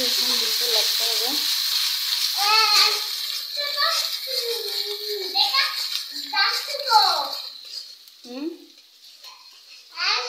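An egg frying in a pan gives a steady, bright sizzle throughout, with a voice and other talk running over it.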